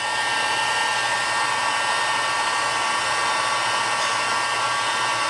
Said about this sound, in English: I'm gonna have my heat gun here to warm it up